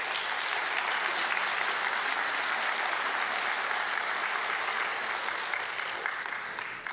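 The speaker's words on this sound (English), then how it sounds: "Please give them a round of applause." A seated audience at a science lecture gives a sustained round of applause. It is an even, dense wash of clapping with no talk over it, holding steady for about seven seconds.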